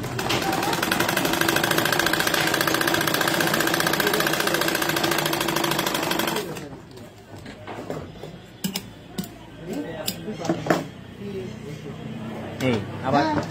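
An electric sewing machine stitches fabric for a salwar at a tailoring lesson, running in a loud, dense, continuous whir for several seconds before stopping, followed by quieter handling clicks and taps.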